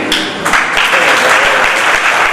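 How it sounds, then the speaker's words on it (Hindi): Audience at a poetry reading applauding a poet, loud close clapping from a modest crowd with a few distinct sharp claps standing out, continuous throughout. "तालियां प्रमिला आर्य जी के लिए"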